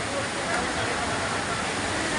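Steady, roaring rush of Taytay Falls fills the clip, a dense continuous wash with faint crowd murmur underneath.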